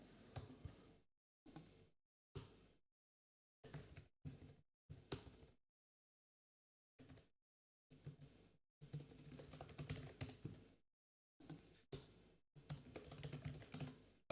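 Computer keyboard typing while coding a game project, arriving in short bursts of clicks separated by pauses, with a longer dense run of keystrokes near the end; close and fairly quiet, no voices.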